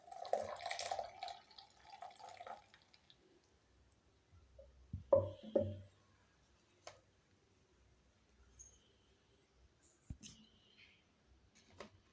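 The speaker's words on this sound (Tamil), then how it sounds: "இப்போ இதை வந்து நல்லா வடிகட்டி எடுத்துக்கிடுவோம்." A ground mixture strained by hand, giving faint, sparse drips and soft wet squeezes with long quiet gaps and a few low murmurs in the background.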